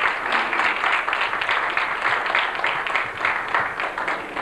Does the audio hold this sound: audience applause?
yes